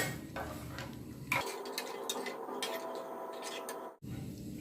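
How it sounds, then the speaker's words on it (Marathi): Dal stirred with a little oil and a pinch of turmeric in a pressure cooker: soft scraping and light clinks of a spoon against the metal pot, close and quiet, ending with a sharp knock. "थोडंसं तेल आता अगदी दोन चिमूट अशी हळद हे व्यवस्थित मिक्स करून घेऊया"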